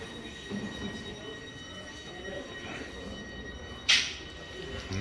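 A railway wagon is shunted at a station with a low, steady rolling rumble. A single sharp metallic wheel squeal cuts through partway, somewhat distant.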